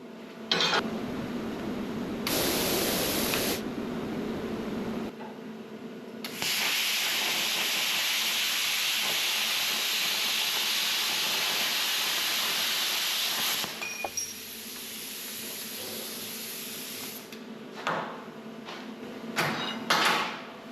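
A Primeweld Cut 60 plasma cutter slices through thin steel stock with a loud, close, hissing roar that runs in long bursts, broken by short pauses and sharp clicks as the arc starts and stops.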